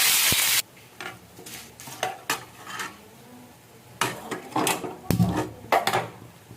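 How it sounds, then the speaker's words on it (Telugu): A short burst of loud sizzling of curry leaves and dried chilies in hot oil opens, followed by light clinks and scrapes of a utensil against a pan. "కరివేపాకు ఎండుమిరపకాయలు అన్నీ వేసేసుకోవాలి."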